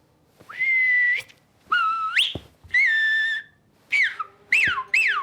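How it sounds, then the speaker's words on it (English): A person whistles a short tune in clear, bright phrases: long held notes and rising swoops, separated by brief pauses, loud and close with no talking. "I do know how to whistle."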